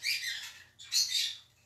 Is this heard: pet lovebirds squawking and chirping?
yes